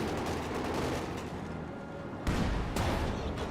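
Gunfire and shell hits strike a Panzer IV tank in Company of Heroes 2, a dense rumbling battle din with a sharp, louder impact burst partway through.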